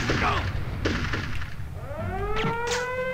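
Bazooka fire in the video game Army Men: Sarge's Heroes comes as a few abrupt bursts and thuds, mixed with other game sounds and a brief voice.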